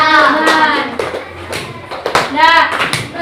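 A fifth-grade class at an Indonesian elementary school claps for a group, a burst of many hands applauding close by with children's voices mixed in.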